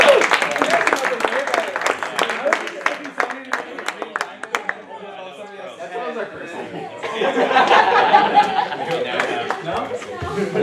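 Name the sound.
audience applause at a meeting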